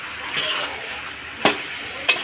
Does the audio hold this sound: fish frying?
yes